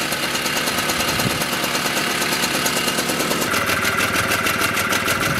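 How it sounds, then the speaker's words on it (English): A rebuilt Mobylette X1 moped engine idles steadily up close, a fast, even two-stroke putter with a rattling buzz and no pauses, running alone without voices. "this little bike is running very nicely"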